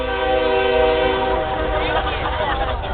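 A train horn blares loud and sustained, a steady harmonic blast with no break that wavers slightly near the end, at a convention panel.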